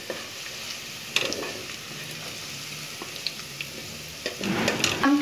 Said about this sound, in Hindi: प्याज हमारा फ्राई हो रहा है, इसके अंदर ये जो हमने सब्ज़ इलायची ली थी ये भी डाल लेंगे